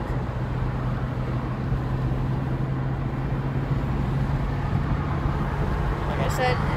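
Steady low rumble of road noise inside a moving car, constant and unbroken, with a faint hum running underneath throughout.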